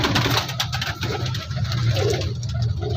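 Pigeons at an open-air pigeon market in Shahdara, Lahore, cooing in a continuous low murmur close by, over a steady mechanical hum with scattered bustle.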